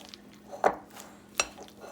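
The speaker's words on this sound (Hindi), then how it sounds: "इसको अच्छी तरह मिक्स करेंगे।" A spoon knocks against a bowl while boiled, crushed chicken filling is mixed, two distinct clinks about three-quarters of a second apart over a quiet background.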